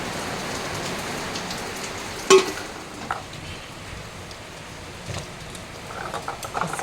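Steady rain falls on a rainy day, making a constant broadband patter with a sharp knock early on and a few faint clicks and thumps.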